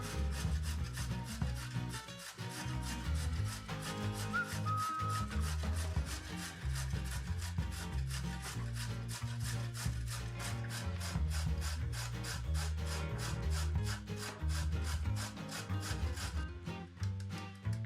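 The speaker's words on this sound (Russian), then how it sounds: "на крупной терке натрем одну морковь" A single carrot is rubbed against a coarse grater in steady, rhythmic rasping strokes that continue throughout, with loud background music playing over them.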